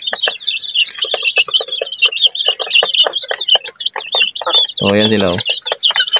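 Chicks and chickens on a farm, some chicks recovering from pecking injuries, peep and cluck in a constant, busy chorus close by, with someone speaking briefly over them.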